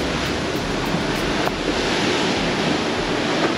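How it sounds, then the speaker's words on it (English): Steady broadband wash of Atlantic Ocean waves heard from a cruise ship balcony, a continuous rushing surf noise mixed with wind buffeting the microphone, with no voices. "Another look out to the gorgeous Atlantic Ocean."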